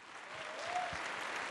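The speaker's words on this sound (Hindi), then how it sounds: "जोरदार तालियों से स्वागत" A studio audience at a televised talent show applauds to welcome a performer, with dense, steady clapping that holds at an even level throughout.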